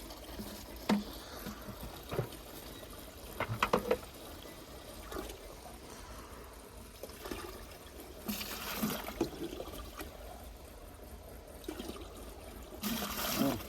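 Water trickles and pours in short, uneven bursts, with splashing, small knocks and faint background noise.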